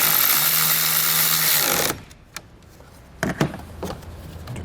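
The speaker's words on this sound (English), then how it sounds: "get it started, and we'll tighten that nut back up" A power tool drives a nut onto a ring terminal stud during a tail light converter install on a 2018 Ford EcoSport, a loud steady whir for about two seconds that stops, followed by a few clicks and handling knocks.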